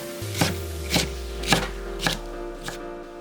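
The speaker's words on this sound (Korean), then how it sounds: "양파 4분의 1개는 굵게 채 썰고, 양배추 1줌은 1cm로 채 썰기" A knife chops scallion, onion and cabbage on a cutting board, five distinct evenly spaced thuds about half a second apart, close and clear, with no talking.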